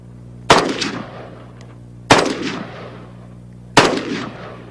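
Three loud, sharp single gunshots ring out at a shooting range in northern Israel, evenly spaced about a second and a half apart, each followed by a long reverberant decay, with no talk.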